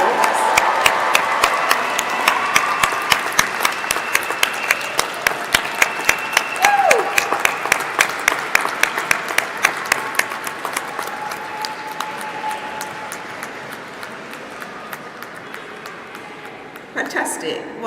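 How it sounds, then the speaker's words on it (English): Graduation audience applauding at a university graduation ceremony: steady, sustained clapping from a large crowd that runs for over fifteen seconds and slowly fades, ending with a brief burst near the close. "A huge round of applause."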